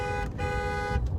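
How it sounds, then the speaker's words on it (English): Car horn on a Jeep Grand Cherokee Trackhawk, a steady sustained honk lasting over a second, loud and close, heard alone in an outdoor setting. "I had to give them a honk"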